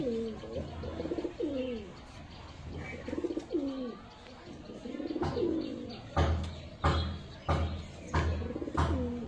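Pigeons coo repeatedly in soft, rolling phrases, several birds overlapping, with a few sharp knocks and bird chirps near the end.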